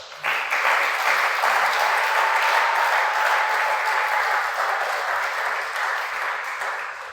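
A church congregation applauds after a sermon by pastor Jacques M'Pindou, loud steady clapping that fills about seven seconds without a break before easing slightly at the end.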